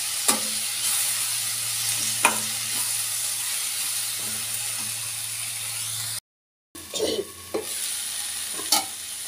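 Garlic frying in a pan for curry leaves chutney gives a steady close sizzle with scattered stirring clicks, broken by a brief pause before the frying resumes.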